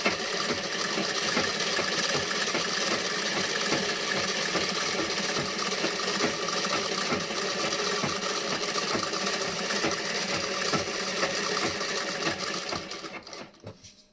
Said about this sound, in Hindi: अब यहाँ पे सिलाई लगाऊंगी साइड में।